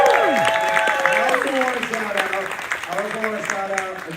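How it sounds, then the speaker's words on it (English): Audience applause for a toy collector at a live toy event, scattered clapping under prominent overlapping voices and whoops. "Round of applause for Alex."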